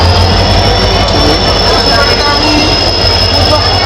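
A train waits at a station before departure, its wheels squealing loudly in a continuous, unbroken shriek over a heavy rumble that fills the whole clip.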